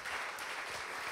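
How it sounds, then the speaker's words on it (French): Applause from a French-language conference audience, a steady dense clatter of many hands filling the short stretch at moderate loudness with no break. "on peut l'applaudir"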